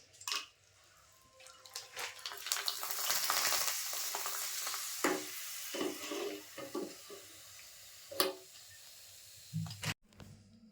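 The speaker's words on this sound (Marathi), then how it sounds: "आता पापड पण भाजून घेते." Papad roasting over a gas flame for Konkani masale bhat, with crackling, hissing and sizzling bursts and a few sharp pops, close and fairly quiet, no talking.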